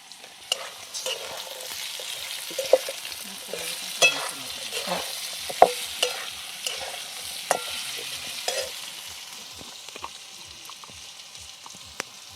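Onion and spices stir-fried in a pan in a home kitchen, a soft continuous sizzle with repeated light scrapes and clicks of the spatula at an even rhythm, close and fairly quiet.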